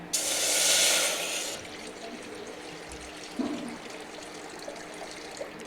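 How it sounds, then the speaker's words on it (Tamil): About one and a half tumblers of water are poured into a pot in a short splashing rush lasting under two seconds, followed by quiet with a few faint clinks. "ஒன்றரை டம்ளர் தண்ணி ஊற்றியாச்சு"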